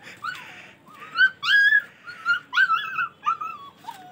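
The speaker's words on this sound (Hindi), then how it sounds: "कुत्ते के पिल्ले, तो आज इनको हम खोलने जा रहे हैं अभी क्योंकि सुबह हो गई है। वो चिल्ला रहे हैं" Young street puppies whine and yelp close by in the morning, a series of high, thin whimpers and squeaky yips rising and falling in short bursts with brief gaps between them.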